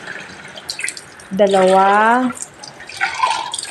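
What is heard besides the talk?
water poured into a pot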